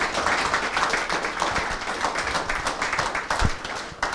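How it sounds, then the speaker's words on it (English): Applause and clapping from a live audience at a snooker championship fans forum in York, a dense steady wash of many hands lasting throughout at a fairly even, moderately loud level. "Big round of applause to all three."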